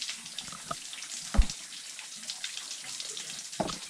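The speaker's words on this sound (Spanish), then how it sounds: "esta gota que cae hasta pesada" Water drips at a natural spring in a forest, with a few distinct, faint drops falling close by over a soft, steady trickle.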